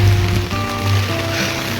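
Heavy monsoon rain pours down over a village road in a steady, dense hiss, close and loud, with a low hum underneath.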